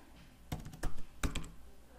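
Git commands typed on a computer keyboard: two short clusters of close, dull keystrokes separated by a brief pause, fairly soft overall.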